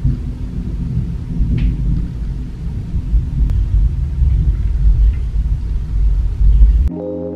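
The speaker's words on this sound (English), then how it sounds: "There's a thunderstorm." Low, heavy thunder from a thunderstorm rolls and rumbles steadily for several seconds, loud and continuous, with no one speaking, before cutting off abruptly at the end.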